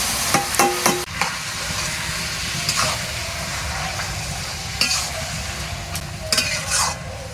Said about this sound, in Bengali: এবার আমি বাঁধাকপিটা দিয়ে দিচ্ছি